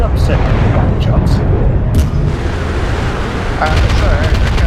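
Gunfire and heavy weapon impacts in the mech combat video game MechWarrior Online, a loud, continuous rumbling barrage with a few sharper bursts layered on top, dense and unbroken throughout.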